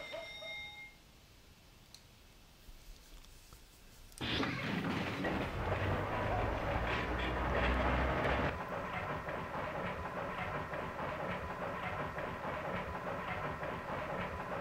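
Video game train from Chulip rumbles in loudly with a heavy, steady roar and rattling that swells for several seconds, then settles into a lower continuous running hum; no one speaks.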